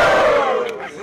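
An audience at a rap battle roars and shouts together in a brief, loud burst of crowd noise that fades quickly within a second.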